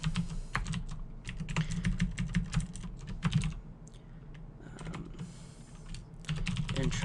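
Rapid, close keystrokes on a computer keyboard as code for a C program is typed, steady clicking in quick runs with short pauses, over a low room hum.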